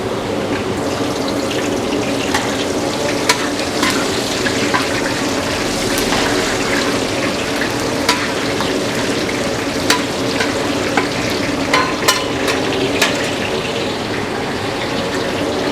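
Lime leaves, bay leaves, galangal, ginger and lemongrass stalks hissing in hot oil for a catering dish: a loud, continuous, close sizzle dotted with occasional spatula clicks.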